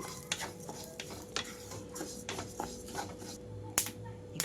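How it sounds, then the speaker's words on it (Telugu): Flax seeds fry in oil over a low flame and are stirred, giving a run of scraping strokes against the pan over a soft, steady sizzle, with one sharper clink near the end. "అవిసి గింజలు మొత్తం కూడా వేసి వేయించుకుంటున్నాను ఇవి కూడా లో ఫ్లేమ్లోనే ఉంచి వేయించుకోవాలి"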